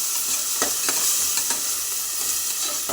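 A ground mixture of tomato, chili powder, green chilies, garlic and ginger frying in a pan, with a steady bright sizzle and a few soft stirring scrapes, close up and without talk.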